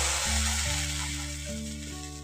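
Rice batter for chitai pitha hisses and sizzles on a hot oiled tawa, a steady close frying sound with faint tonal hum underneath.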